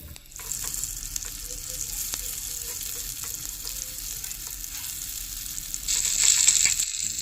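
Onion, garlic and tomato frying in a pan while being stirred, a continuous sizzle with occasional metallic scrapes, growing louder and brighter toward the end.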